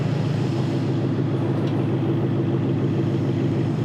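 A Ford Mustang Dark Horse with an X-pipe exhaust in race mode produces a steady, loud engine rumble throughout, close by with no talking.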